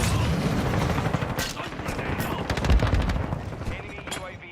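Dense, continuous gunfire and booming blasts from a first-person shooter video game fill the mix, loud and close with rapid bursts and heavy impacts, including an exploding bomb.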